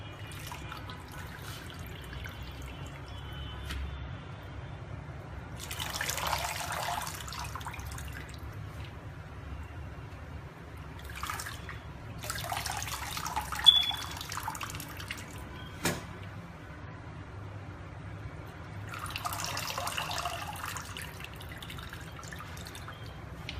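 Water runs in three short, separate bursts while ugu leaves are rinsed for Edikaikong vegetable stew, with quiet drips and a low room hum in between.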